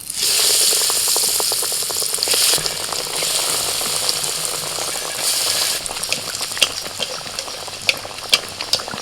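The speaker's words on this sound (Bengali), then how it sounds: "এবার এই যে লম্বা শেপেরগুলো করেছিলাম এবার এইগুলো ভেজে নেবো" Egg cutlets, long-shaped pieces, sizzle in hot oil in a frying pan, a loud continuous crackle close up, with sharper pops and a few clinks of a utensil toward the end.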